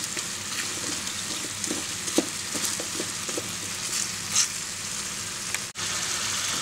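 Veal blanquette stirred in a pan, a soft continuous sizzle with light scraping and occasional clinks of the utensil, fairly quiet and close, with a brief drop near the end.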